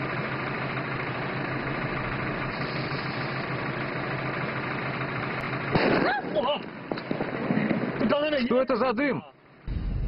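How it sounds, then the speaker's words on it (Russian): A firework with a lengthened fuse and its base braced with a brick bursts on the ground. A steady background hiss gives way to a sudden loud blast, then irregular crackling pops, with people talking over the aftermath. "Фейерверк взорвался на земле."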